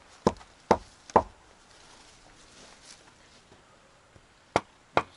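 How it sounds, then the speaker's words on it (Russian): A wooden log in a clay hut under construction is knocked sharply, with three quick hollow raps and then two more after a pause. The knocks are close and clear against quiet outdoor background. "Я постучу."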